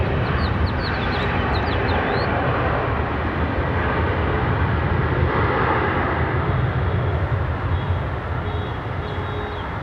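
A United airliner arriving at Raleigh-Durham airport gives off a loud, continuous jet engine rumble throughout, with faint bird calls chirping briefly at the start.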